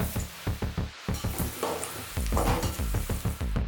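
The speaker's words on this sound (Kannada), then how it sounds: "ಈರುಳ್ಳಿ ಫ್ರೈ ಆಗ್ತಿದೆ." Thickly sliced onions fry in hot oil in a pan while being stirred, a steady sizzle broken by repeated scraping strokes and clinks of the spoon against the pan, close and fairly quiet, with no talking.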